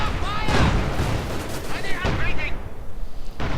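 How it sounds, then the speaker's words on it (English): Pak 43 anti-tank gun shots in Company of Heroes 2, heavy booming reports at spaced intervals, mixed with other battle noise under a commentator's steady talk. "Pak 43 fires at it but misses the first shot"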